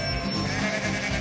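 Sheep at a busy livestock market in Ludlow, England, bleating in a dense, continuous chorus of overlapping calls, loud and close throughout.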